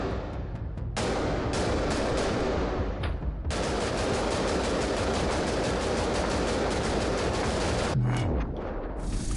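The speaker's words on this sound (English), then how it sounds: "Are you shooting me?" Gunfire in the video game Get Even: sustained heavy automatic shooting, loud and dense, with a couple of abrupt breaks where the noise cuts out before resuming, no talking over it.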